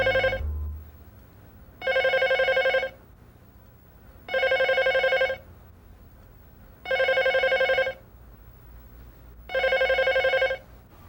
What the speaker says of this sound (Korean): 그런데 오후 4시경 혼자서 집을 보고 있던 그에게 한 통의 전화가 걸려왔다.